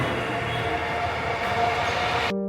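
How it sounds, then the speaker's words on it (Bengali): Train sound at Sylhet railway station in Bangladesh, with a steady loud rumble of rolling stock and a faint whine running throughout that cuts off abruptly near the end, with no talk. "এই মুহূর্তে এসে পৌঁছেছি সিলেট রেলওয়ে স্টেশন"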